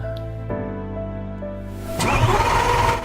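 A car engine cranks with a tonal whine, catches and idles with a steady hum, then bursts into a louder rough revving roar near the end, close and clear with no talking.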